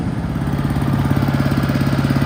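A farm sprinkler pump engine idles on tick over, a steady loud close putter with an even, rapid pulsing beat, running alone without any talk.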